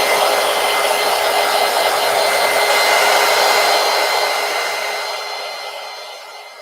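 A hair dryer blowing on wet gouache paint gives a steady, close, loud whooshing hum that fades slightly toward the end, with no talking.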